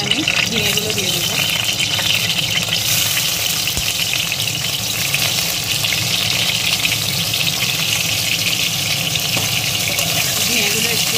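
Ridge gourd pieces fry in hot oil for jhinge aloo posto, a loud, close, continuous sizzle with a rushing, spattering texture and no pauses.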